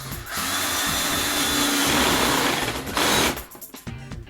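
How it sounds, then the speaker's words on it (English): A battery-operated drill drives a screw into a wooden canvas frame corner, its motor whirring steadily and close for about three seconds, then stopping. "what I'm going to use is my battery operated drill. And I'm going to grab one of my screws"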